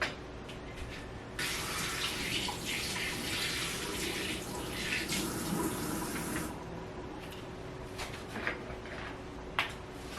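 Water runs from a kitchen tap as a spoon is rinsed, a bright steady hiss for about five seconds that then cuts off, followed by faint clinks and handling noises close by.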